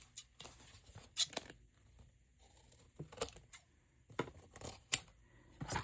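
Scissors trimming craft material, a sparse series of quiet, crisp snips and cuts in irregular bursts separated by near silence.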